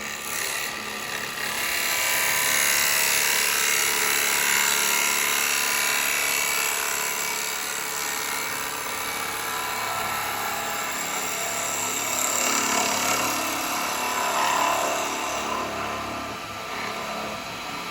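A woodturning chisel cuts steadily into a spinning cherry almond natural-edge bowl on a lathe, giving a continuous hissing, scraping whir with slight swells as the cut changes.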